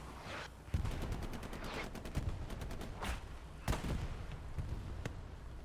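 Machine gun fire in the World War II shooter Hell Let Loose during a competitive match, rapid bursts of gunfire mixed with scattered heavier shots and booms, dense and continuous over a busy battle din.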